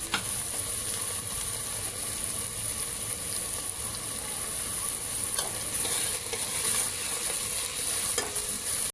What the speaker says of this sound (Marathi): आता हे सगळं चांगलं आपण परतून घेऊयात